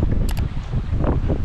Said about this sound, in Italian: Per ora vento molto leggero, ma tende a rinforzare.